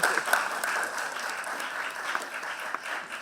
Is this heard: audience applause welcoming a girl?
yes